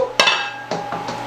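Tomato is added to a pot of freshly cooked Spanish rice, giving a sharp metallic clink of utensil on pot followed by two softer scraping knocks, close and fairly loud, with no talking.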